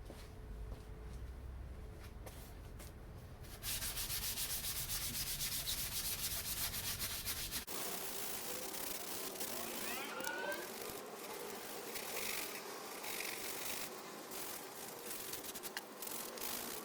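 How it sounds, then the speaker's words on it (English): Sanding a boat bulkhead before priming gives steady abrasive rubbing that loudens after a few seconds and runs continuously, with a faint buzzing tone coming and going and no talking. "Okay, I have kind of finished sanding,"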